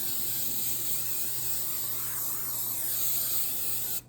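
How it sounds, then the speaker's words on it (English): A continuous, close aerosol hiss of rain and stain repellent sprayed onto the piping of a Louis Vuitton Speedy 40 leather bag, loud for about four seconds, then stops abruptly. "I'm spraying the piping now."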